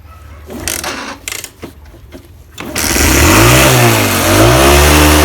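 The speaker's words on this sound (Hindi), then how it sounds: "अपनी बाइक से जा रहा हूँ" A motorbike engine starts up and revs loudly, rising to a steady droning ride-off with a pitch that swells and dips, after a few seconds of handling noise and clatter.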